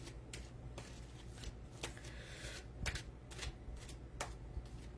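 A dragon oracle card deck being shuffled and a card pulled, giving soft, quiet riffling and sharp snapping flicks at irregular intervals.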